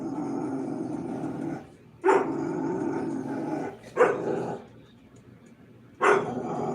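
A dog growls close by in long, low rumbling stretches, broken by three short sharp louder bursts a couple of seconds apart, with brief quiet pauses between.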